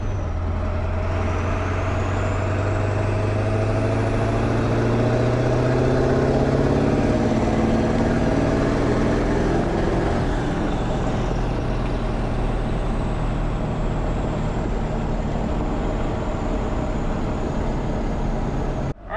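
An OBS Ford truck with a 7.3 diesel accelerates hard through the gears, a loud continuous engine roar with rising pitch sweeps and wind noise, heard from inside the cab.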